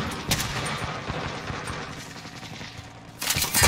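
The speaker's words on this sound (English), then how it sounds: "getting shot at from the left, too" Gunfire in the shooter game Call of Duty Warzone comes as continuous bursts of rapid shots, fairly loud and steady, with a stronger volley near the end.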